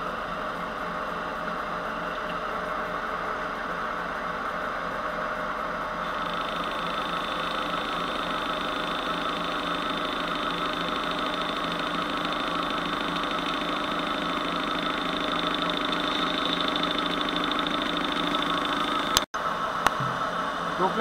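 A lathe faces the flywheel of a small homemade four-stroke engine, giving a steady machine whine and hum that runs unbroken for about twenty seconds, with a brief clunk near the end.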